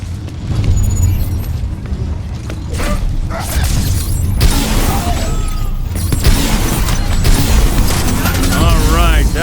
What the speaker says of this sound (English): More gunfire and grenades coming your way.